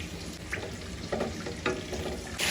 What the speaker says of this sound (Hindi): अब हम इसमें डालेंगे ये अपना लहसुन, बिस्मिल्लाहिर्रहमानिर्रहीम, और इसको हम फ्राई करेंगे